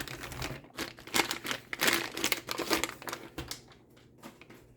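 Plastic packaging around airsoft rifle magazines crinkles and crumples up close in irregular rustling bursts, moderately loud and then tapering off, with no voices.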